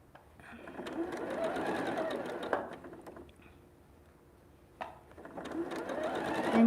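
A domestic sewing machine stitches a quilt in two long, steady whirring runs separated by a short pause, running close and fairly loud with small clicks at the starts and stops, just as the bobbin thread runs out.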